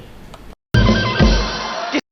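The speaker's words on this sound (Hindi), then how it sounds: "लंदन से फोन है" Telephone ringing in a comedy sketch, a single loud, bright electronic ring of just over a second that starts and stops abruptly.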